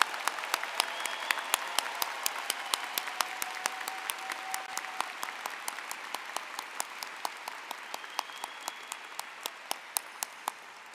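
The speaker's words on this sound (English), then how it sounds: "let's give all our accomplished graduates a round of applause" Graduates at a 2024 psychology commencement ceremony receive a sustained round of applause from the audience, steady clapping with crisp individual claps standing out and gradually thinning over about eleven seconds.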